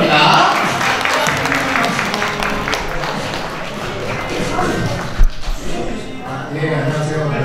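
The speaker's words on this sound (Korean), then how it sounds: "박수 한번 크게 보내주시기 바랍니다." A crowd claps steadily throughout at a first birthday party, a dense patter of applause with a single thump partway through.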